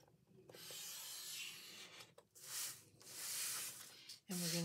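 Paper is scored with a scoring tool at half an inch, heard as close, quiet scraping strokes that come in several separate passes with short pauses between them.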